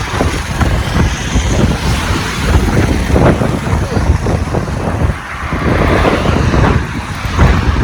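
Strong wind buffets the microphone in a constant loud rumble while a vehicle moves along, the gusts roaring without pause.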